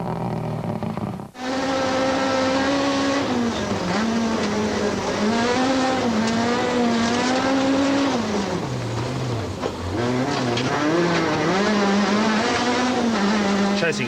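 A rally car drives hard on a stage at the 2004 Rally of South Africa, its loud engine revving and dipping through gear changes in rising and falling sweeps after an abrupt start, close and continuous.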